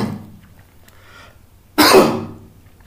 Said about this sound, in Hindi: पता नहीं कितनी खांसी आ रही, सॉरी।